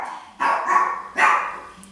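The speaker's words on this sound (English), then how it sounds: "My dog hears me. He thinks I'm a stranger." A dog at home barks a few times, loud and close: two or three sharp barks in quick succession with short pauses between them and no other voices.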